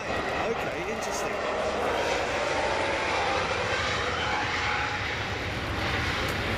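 A Lufthansa Boeing 787 airliner comes in to land at Frankfurt Airport with a loud, continuous jet roar that holds steady throughout, while people can be heard talking nearby.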